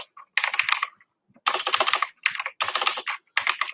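Fingers type in quick bursts on a computer keyboard, close and crisp, with brief gaps between clusters of keystrokes and no talking.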